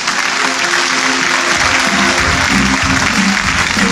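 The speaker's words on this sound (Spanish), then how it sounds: "Aplauso para él." Loud, dense audience applause at a church sermon fills the whole stretch, a steady roar of many hands clapping close by with crowd noise mixed in.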